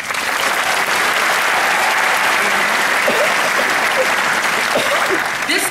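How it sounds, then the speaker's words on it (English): Dense, steady applause from a large audience at a university nursing graduation ceremony, loud and sustained throughout with a few faint voices or whoops rising through the clapping. "Please give yourselves a round of applause."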